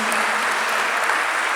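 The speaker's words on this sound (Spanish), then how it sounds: "vamos a darle un aplauso a los que nos están escuchando" Audience at a church gathering breaking into brief, steady applause, a short dense burst of clapping with no talk over it.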